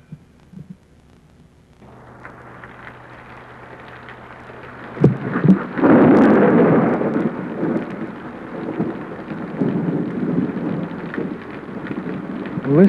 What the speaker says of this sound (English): we usually have pretty heavy thunderstorms during this time.